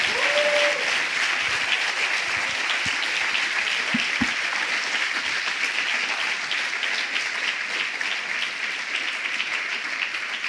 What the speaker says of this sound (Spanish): Aplaude al Señor y bendícele esta mañana.